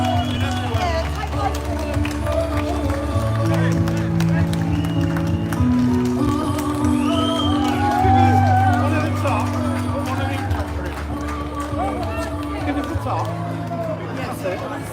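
Crowd at an outdoor rally cheering and clapping steadily, a loud continuous wash of applause and voices that swells and holds across the whole stretch, with someone speaking over it.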